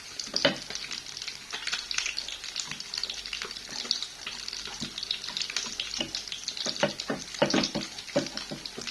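Leftover food is reheated in a pan over a low flame, giving a soft, continuous sizzle with occasional scraping and stirring clicks, fairly quiet and close, with no talking.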